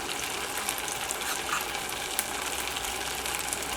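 Leftover rice and onion vada fry in hot oil with a steady, dense sizzle, close and even throughout, with no talk.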